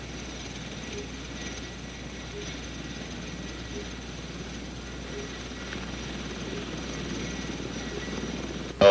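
A Sikorsky CH-54 helicopter with its rotor turning, a steady low rotor drone and hum running throughout at moderate level, a short burst of sound right at the end.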